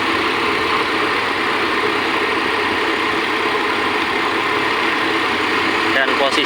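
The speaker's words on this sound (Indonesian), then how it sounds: "terdengar halus ya, suaranya lebih halus, tidak terdengar suara kemelitik atau kletek-kletek" Toyota Innova engine idling smoothly at low rpm, a steady, even hum with no rattling or ticking, close and continuous throughout.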